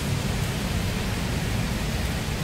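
Rain falling outside, a steady, even hiss of drops that fills the whole stretch without breaks, fairly close and with no voices.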